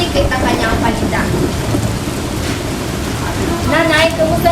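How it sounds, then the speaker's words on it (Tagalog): Heavy downpour pounds steadily on surfaces at an outdoor spot where street vendors sell goods, with a low rolling rumble of thunder beneath the constant loud hiss of rain. "Jen, talagang malakas ang ulan dito at hanggang ngayon hindi pa humupa ang ulan."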